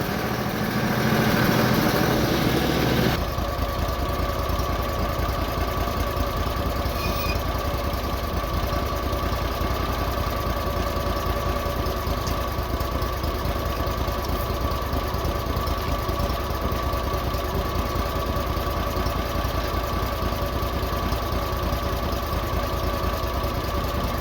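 The carbureted engine of a portable winch used to pull oak logs warms up, a loud steady idling drone with a knocking pulse that runs unbroken for the whole stretch after a brief louder start.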